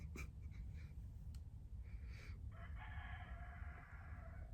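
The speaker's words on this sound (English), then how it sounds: "My neighbor has roosters, and it just knocked on the door with its beak and crowed." A neighbour's rooster crows: a faint, distant drawn-out cock-a-doodle-doo rising out of steady room noise after a few brief knocks and scratchy sounds.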